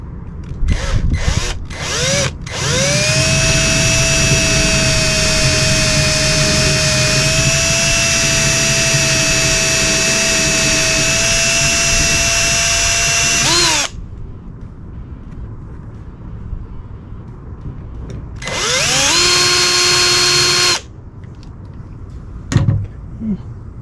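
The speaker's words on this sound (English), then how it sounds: "So I'm going to drill these out" A power drill whines loudly at high speed for about ten seconds drilling out a boat's stern navigation light, stops, then runs again in a shorter burst, with a few clicks before and after.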